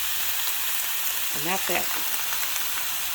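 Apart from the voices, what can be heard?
garlic and onions sizzling with pork in pan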